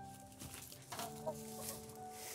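Chickens clucking close by on a farm, several soft irregular clucks and short squawks over a quiet background.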